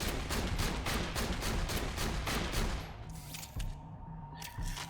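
Hyperion shotgun fire in the video game Borderlands The Pre-Sequel, a rapid series of loud booming blasts in quick rhythm that thins out into a few spaced shots and impact thuds near the end.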